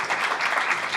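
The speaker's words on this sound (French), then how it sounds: "On peut vraiment les applaudir fort." An audience applauds a technical team and musicians at a live show, with steady dense clapping from a crowd. It is fairly close and continuous for the whole second, and no voices come through.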